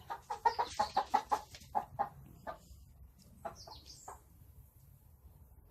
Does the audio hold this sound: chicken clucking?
yes